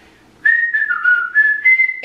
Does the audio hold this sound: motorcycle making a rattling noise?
no